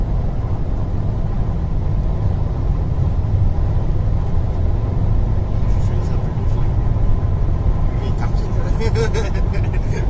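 A car driving on the road, heard from inside as a steady, loud low rumble of engine and tyres throughout, with voices talking over it and faint clicks near the end.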